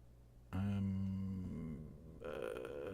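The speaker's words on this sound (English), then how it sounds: "Burp." A single loud, close burp with a rough, drawn-out tone lasting over a second, followed by faint background noise.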